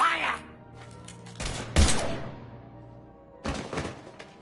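Gunfire in the video game Mass Effect 3 arrives as short clusters of heavy, booming shots and thuds: a burst in the middle and another near the end, with quieter pauses between them.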